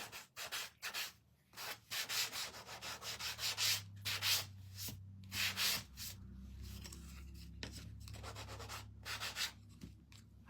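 Layered wooden snowman craft pieces from a rustic winter kit being sanded by hand, with steady scratchy rubbing strokes in uneven bursts, close and fairly loud, without talk.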